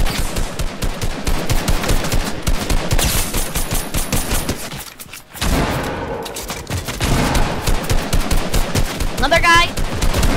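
Rapid automatic gunfire in the video game Fortnite, dense bursts of shots with a brief lull midway, loud and close, with players talking excitedly over it.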